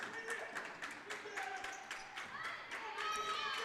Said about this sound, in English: The Nashville Christian Lady Eagles bench trying to create a little energy with some clap going over there